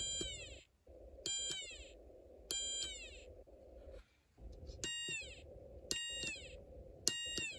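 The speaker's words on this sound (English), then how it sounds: "And you hear sound from both the speaker and whistle chip." Snap Circuits Extreme SC-750 electronic kit sounding through both its speaker and whistle chip: repeated rising, meow-like electronic chirps over a steady buzzing drone, about six bursts in a loose rhythm, fairly quiet and close.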